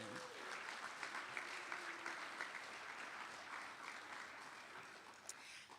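Sustained applause from an audience at a homecoming kickoff celebration and Hall of Honor induction, a dense, even patter of clapping that carries steadily for several seconds before easing slightly at the end.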